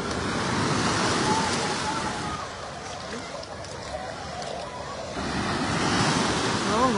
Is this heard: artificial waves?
yes